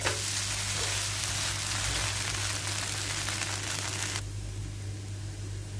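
Dosa frying in oil on a hot pan, giving a loud, dense, continuous sizzle close up that drops abruptly to a quieter crackle near the end, with no talking.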